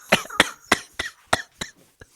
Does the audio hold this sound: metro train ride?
no